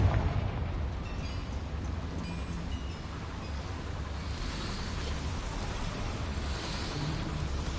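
A Confringo fire spell in the Hogwarts Legacy video game unleashes a roaring, rumbling blast aimed at a boiler, a dense burst of fiery noise that persists steadily for several seconds.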